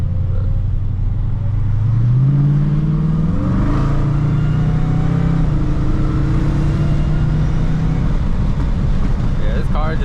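A car engine accelerates hard while driving, its pitch climbing steadily through the gears, loud and close with heavy wind rumble and road noise throughout.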